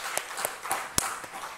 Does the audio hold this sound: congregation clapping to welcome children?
yes